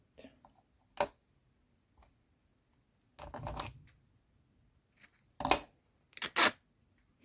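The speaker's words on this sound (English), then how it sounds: "why I'm using these scissors, they are actually quite sharp." Sharp scissors cutting fabric for a journal cover make a few scattered crisp snips and a brief crunching cut, close and quiet, separated by near silence.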